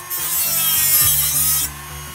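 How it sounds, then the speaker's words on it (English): A Dremel rotary tool grinds through a metal fan guard punch-out, giving a loud, close, high-pitched cutting whine that holds for about a second and a half, then stops abruptly, with no talking. "I started by hacking the old punch out for the fan guard first with a Dremel."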